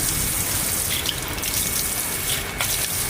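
Steady rush of water running from a tap or shower head while a French Bulldog is bathed, constant loud flow with faint splashes throughout.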